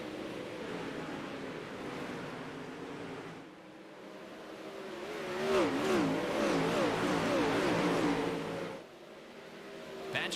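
360 sprint cars race around the slick Knoxville dirt track under green flag, their engines roaring and whining as they pass, a steady distant din swelling to a louder, rising wail from close cars, then fading.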